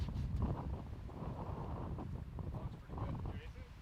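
Strong wind on a disc golf course at a tournament round, a continuous low roaring buffet on the microphone with faint murmuring voices beneath it.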